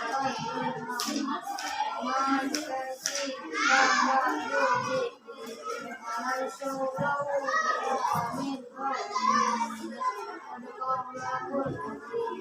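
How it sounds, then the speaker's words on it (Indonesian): Fifth-grade pupils in an Islamic religious studies class clap together in quick bursts, their hands slapping amid excited children's voices and chatter, lively and close throughout. "Tepuk tangan untuk teman kita."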